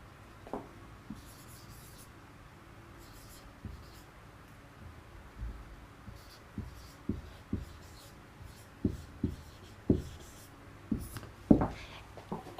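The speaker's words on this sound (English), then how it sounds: "I'm writing minute in a short form." A pen scratches across paper in short, irregular strokes, close and fairly quiet, as words are written by hand with small pauses between marks.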